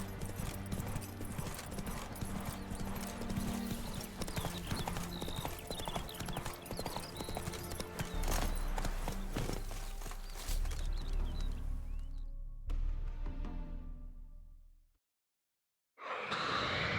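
Roach the horse's hooves clip-clop steadily in The Witcher 3, mixed with game music and ambience, before the sound cuts to silence near the end and briefly returns.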